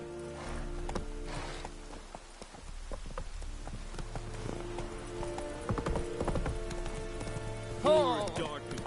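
Roach, a horse in The Witcher 3, clip-clops along in a steady gallop rhythm with a brief neigh near the end, set against game ambience and music.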